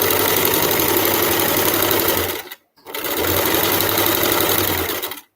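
A sewing machine runs steadily, stitching fabric for hair scrunchies, with a loud continuous mechanical whir that stops briefly for a moment before resuming at the same pace.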